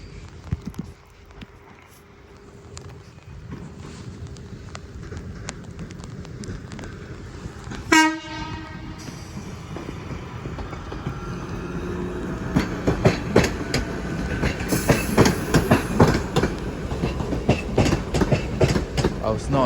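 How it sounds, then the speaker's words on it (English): Northern class 323 electric unit 323237 pulls out of Crewe station toward Manchester Piccadilly, rising motor hum and steady wheel clatter building as it gathers speed, with a brief sharp squeal partway through. "departing now is 323237 on a northern service to Manchester Piccadilly"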